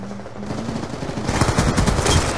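Rapid automatic gunfire from the video game Black Ops 2 during online play, a loud, dense string of shots that builds after a brief quieter opening.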